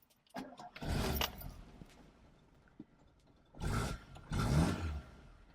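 A 1970s SEAT 127 engine cranks and catches in two loud bursts, with a faint key jingle and clicks between attempts, heard up close.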